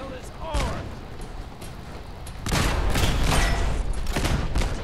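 Sustained gunfire from a weapon in the video game Fallout 4, a steady rattling volley that grows louder and denser halfway through, mixed with game ambience and some speech.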